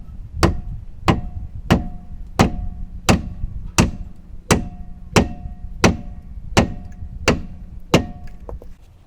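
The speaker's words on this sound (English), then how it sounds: "just got to hammer that out a little bit" Heavy metallic hammer blows from a large hammer strike at a steady pace while removing a car's rear shock absorber, about fourteen loud hits spaced roughly half a second apart, each ringing briefly.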